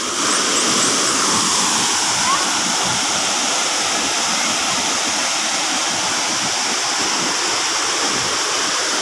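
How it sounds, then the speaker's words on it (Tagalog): Tugonan Falls roars in a loud, continuous rush of falling water heard close up, dense and steady throughout, with no voices breaking through. "Yan, napakaganda ng falls na ito."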